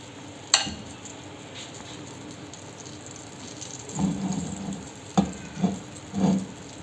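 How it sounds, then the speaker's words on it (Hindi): A pancake cooks in a buttered pan, giving a faint steady sizzle with a few soft clinks and scrapes of utensils near the end. "यहाँ पे जी हमारा पैन केक बन रहा है।"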